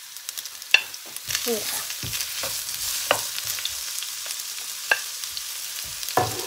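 Fish stir-fried with ginger and mushrooms in a pan, a soft sizzle under scattered scrapes and clacks of a spatula. Someone says a brief word partway through.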